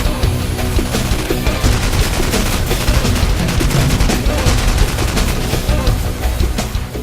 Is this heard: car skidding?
no